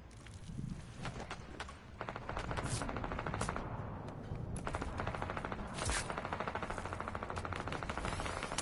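Rapid bursts of pistol gunfire in a Fortnite arena match, sharp repeated cracks in quick clusters over a busy game background, fairly close and loud, with no talking.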